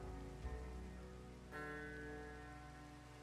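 Steady rain falls in the Minecraft modpack Sky Factory 5, a constant, soft hiss of drops with no break and no voices.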